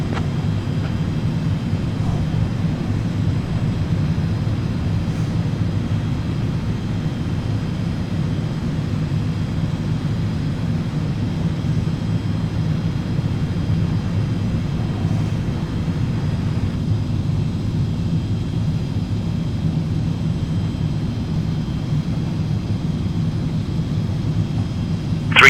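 A Premier business jet taxiing toward the runway in X-Plane 12, heard as a steady, unbroken low engine rumble and whine that holds at the same level throughout with no speech.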